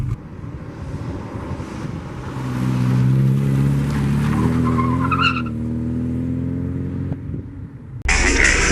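A Volvo car takes a corner, its engine roaring steadily while the tires squeal and skid, the sound swelling loud and close before a sudden burst of noise at the end.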